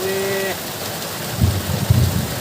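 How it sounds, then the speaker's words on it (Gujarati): Heavy rain pouring steadily outdoors, a dense hiss with a low rumble underneath, a brief tonal hum at the start and a few heavier thuds later. "આજ બહુ આવ્યો વરસાદ"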